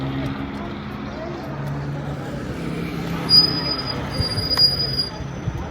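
Train wheels squealing near a railway station in the Atkilt Tera area of Addis Ababa: a thin, high-pitched metallic screech rising over busy street rumble and background voices, lasting a second or two.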